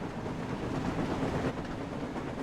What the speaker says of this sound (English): The train was soon running nicely